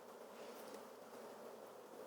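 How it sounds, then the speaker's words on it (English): Faint, steady droning of many honeybees at the front of a hive, a constant buzzing with no breaks and no voices. "you can see the bees walking in the front of the hive"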